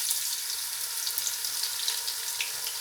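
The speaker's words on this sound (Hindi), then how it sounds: "अब हम डालेंगे जो प्याज काट के रखा है वो वाला।" Chopped onions fry in a pan for mung dal khichdi, giving a steady, dense sizzle with fine crackling spread evenly throughout, close and fairly loud with no voices.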